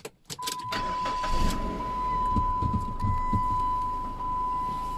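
A Euro 4 car engine cranks briefly, catches and settles into a steady idle close by, with a constant high warning tone running underneath and no talking.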